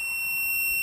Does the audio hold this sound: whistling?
no